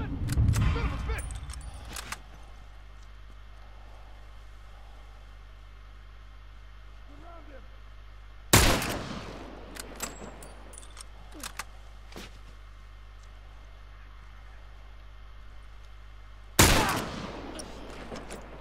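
Gunfire in the video game The Last of Us: two sharp, loud shots roughly eight seconds apart, each with a short crackling tail, over a steady low hum and faint background noises.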